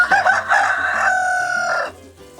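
A rooster crows once, loud and close, in a backyard flock of chickens kept for composting, a single drawn-out call of about two seconds that cuts off sharply.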